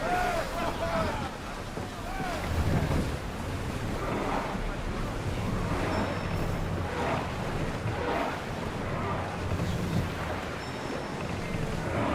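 A sailing ship in Assassin's Creed Odyssey ploughs across open sea, with constant wave wash and rushing wind, steady and close, under occasional voices.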